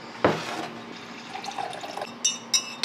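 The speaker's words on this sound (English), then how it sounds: "then I'm gonna pour myself a coffee" Coffee is poured into a Tulamine mug decorated with hearts, starting with a splashy clink and continuing as a soft liquid trickle, then ending with a few sharp clinks close to the ear.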